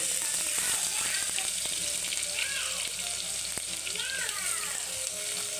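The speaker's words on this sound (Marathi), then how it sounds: "आता मी लसूण टाकून घेणार आहे लसूण आणि अद्रक पेस्ट" Garlic-ginger paste hits hot oil already tempered with mustard seeds and cumin for a drumstick dry curry, producing a loud, steady, close sizzle while a person talks over it.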